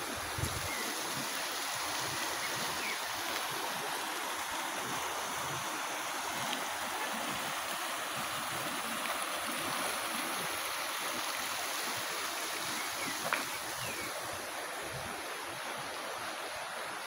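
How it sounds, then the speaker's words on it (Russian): The Berezovaya river flows through the Berezovoye gorge in Kislovodsk, giving a steady, broad rushing of water that holds an even level throughout, with no voices. "И река Березовая."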